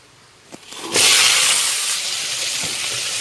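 Garlic, shallots, coriander, dried chillies and tomato roasting in a pan: a light clink, then a loud, sudden hissing sizzle that settles into a steady, bright crackle, with a faint tap near the end.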